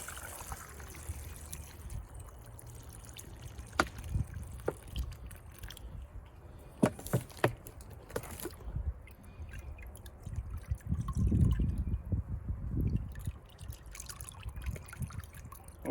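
Peach wine runs through a sieve into a vessel, a soft trickle and dribble of liquid with scattered drips and small clinks, faint and close, no voices.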